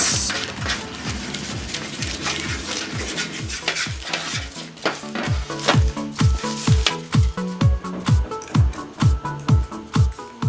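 Butter cake batter being stirred in a bowl, a steady run of rhythmic scraping strokes with faint clinks, close and fairly loud, with no talking.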